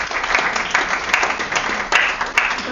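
An audience claps after a talk at an evening event on smell, a steady dense wash of applause with a few sharper claps standing out and no voices.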